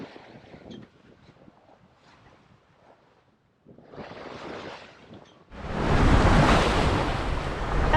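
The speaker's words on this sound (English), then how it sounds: "switching off the engine, let the wind fill your sails, and just glide over the water in silence." A sailboat glides under sail with its engine off as water sloshes and splashes against the hull, then wind rushes loudly across the microphone toward the end.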